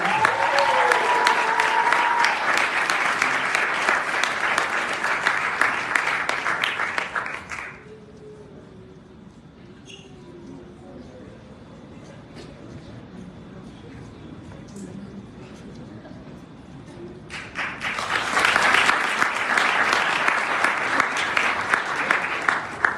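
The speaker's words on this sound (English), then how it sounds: "let's give one final round of applause for these recipients for the stellar work" Audience applause at a school graduation ceremony, a loud, dense round of clapping that fades out, leaving a quiet stretch with a voice speaking, then a second strong burst of applause rises again.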